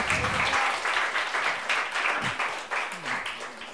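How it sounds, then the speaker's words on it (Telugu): A church congregation claps loudly in a dense, sustained round of applause, with voices calling out over it. "గట్టి చప్పట్లు కొట్టాలి."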